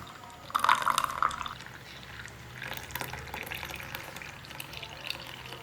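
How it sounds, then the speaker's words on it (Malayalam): Blended homemade summer juice is poured into a glass over soaked sabja seeds, giving a brief liquid splash and trickle early on, followed by quieter clinks and faint kitchen handling. "അടിച്ച് വെച്ചേക്കണ ജ്യൂസ് ചേർക്കാം."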